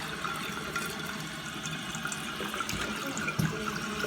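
Water rushing steadily into a toilet tank during a repair, a constant close hiss and gurgle with small splashes and clunks, with no voices over it.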